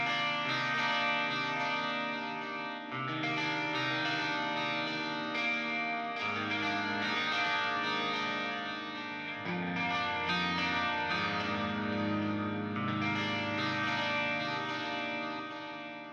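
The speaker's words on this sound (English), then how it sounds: "First I'll play them solo and turn the reverb on and off." Sustained electric guitar chords from a modern metal production, played alone, the tone shifting between dry and washed in spacious reverb several times.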